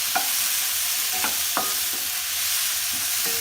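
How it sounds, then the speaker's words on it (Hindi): Chopped apples frying in a pan for an apple chutney, a steady close sizzle broken by several sharp scraping stirs of a spoon against the pan, with no talking. "ये हम इसको फ्राई कर रहे हैं।"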